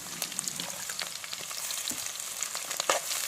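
Chopped onions sizzle and crackle steadily in a hot oily pan, with green chilli, coriander and turmeric added, a dense continuous fry with small pops throughout and no talk.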